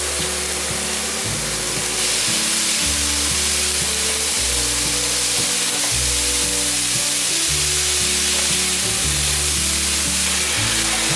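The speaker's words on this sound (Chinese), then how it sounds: "你们看，我已经炒了1分钟，杏鲍菇已经冒出很多水分了" Carrots and king oyster mushrooms stir-fried in a hot pan give a loud, continuous sizzle, with a spatula scraping and tossing in a repeated rhythm and no talking.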